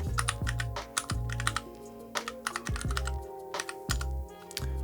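Typing on a keyboard fitted with Bolsa Supply Namazu switches, a close run of crisp, irregular keystroke clacks and deeper thocks, steady and alone with no talk.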